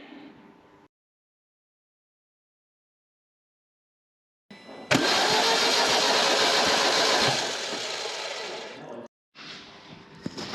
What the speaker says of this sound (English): I might just crank it over without the crank sensor in, see if we've got any oil coming out of there